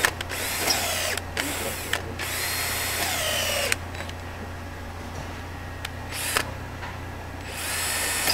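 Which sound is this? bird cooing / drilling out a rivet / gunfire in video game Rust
drilling out a rivet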